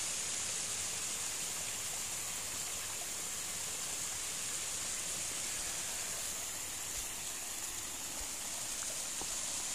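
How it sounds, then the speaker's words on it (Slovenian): A small waterfall on a river near a beach spot gives a steady, broad rushing roar of falling water, constant and fairly close, with no speech over the continuous wash. "Tamle je pa slapak naš."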